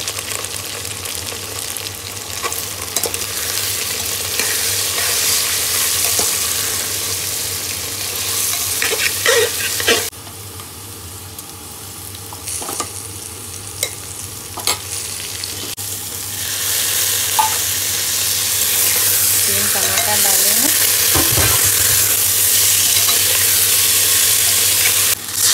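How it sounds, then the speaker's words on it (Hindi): Cumin seeds crackle in hot oil while vegetables fry for a sakin kanda sabzi, a steady close sizzle with occasional stirring scrapes, briefly quieter midway before the frying swells again. "जीरा का तड़का लगा रही हूँ"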